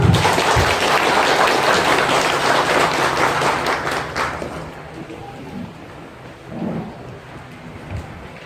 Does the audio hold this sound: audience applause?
yes